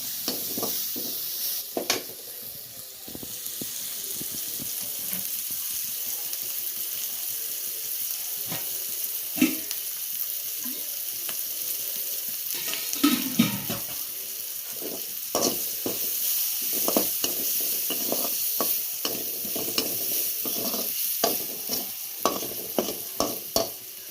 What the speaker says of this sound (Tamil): வெங்காயம் பூண்டு பச்சை மிளகாய் கருவேப்பிலை எல்லாத்தையும் போட்டு வதக்கிக்கிறோம்